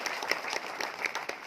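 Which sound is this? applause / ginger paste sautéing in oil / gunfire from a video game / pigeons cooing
applause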